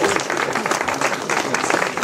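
An audience at a riverside house inauguration applauds, producing dense, steady crowd clapping at moderate volume with faint voices mixed in throughout.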